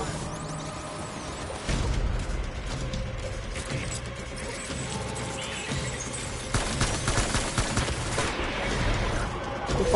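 Gunfire from a PS4 video game: sustained, dense rattling bursts layered over a continuous mechanical clatter that swells louder in the second half.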